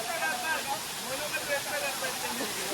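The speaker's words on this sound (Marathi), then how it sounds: "उंचावरून पडणारं पाणी" Natural waterfall in the Konkan region, water dropping from a height in an untouched spot: a steady, dense wash of rushing water that holds an even level throughout, close and continuous with no pauses.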